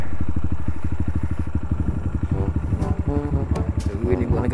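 A motorcycle engine under way while riding, with a loud, rhythmic putter that rises and then turns choppy and uneven toward the end, heard close up with no talk over it.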